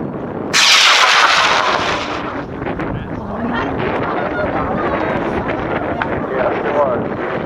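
A model rocket on a G76 motor launches with a sudden loud roaring whoosh that fades over a few seconds into outdoor wind noise.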